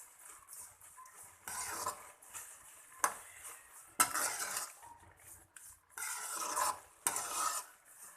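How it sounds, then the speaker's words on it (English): Grated carrot halwa with sugar is stirred in a pan, with rhythmic bursts of scraping and soft sizzling separated by brief pauses, close and moderately quiet. "Mix it well."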